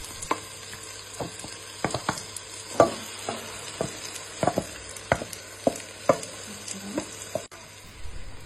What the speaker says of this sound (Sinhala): දැන් මේ කිරි ලුණු කොත්තමල්ලි මිංචි කොළ දාලා පදම් කරපු මස් ටික මම භාජනයට එකතු කරගන්නවා